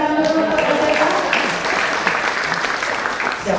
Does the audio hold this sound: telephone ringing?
no